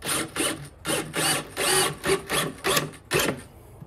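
A power drill whirs in a series of short, repeated bursts, about seven or eight, driving screws into a wooden whiskey barrel bar with brief pauses between each.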